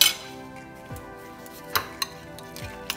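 Avocado sandwich spread seasoned with chaat masala and white pepper being mixed in a bowl, close clinks and taps of a utensil against the bowl spaced out over a quiet background.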